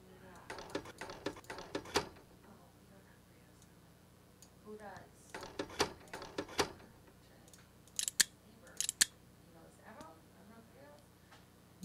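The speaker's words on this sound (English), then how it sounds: "I took my keys and I just tossed them up and then caught them" A bunch of keys tossed up and caught, giving several short metallic jingles and clicks in separate clusters, close and crisp, with someone talking quietly between them.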